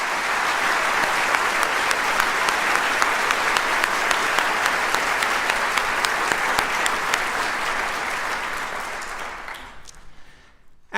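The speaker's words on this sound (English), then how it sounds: "Please join me in another round of applause for our award-winning choir." A large audience gives sustained, even applause for an award-winning choir at a university president's fall address, dense clapping holding steady for about nine seconds before tapering off.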